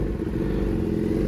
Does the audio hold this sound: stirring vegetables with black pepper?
no